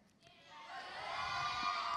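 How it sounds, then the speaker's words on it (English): A room full of children at an object lesson raise a cheer that swells from quiet to loud shouting over two seconds and holds at the peak. "give me a really big cheer if you think we can do this better"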